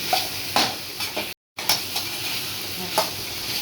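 Coconut is stirred into a snake gourd and chana dal kootu in a pan. A spoon scrapes and taps with irregular strokes over a low sizzle, and the sound cuts out briefly to silence partway through.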